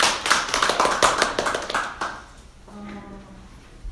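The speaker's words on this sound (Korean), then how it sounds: "힘찬 박수." Brief burst of audience clapping at a teachers' training session in Korea, fairly close and dense for about two seconds before fading into quiet room sounds with a faint voice.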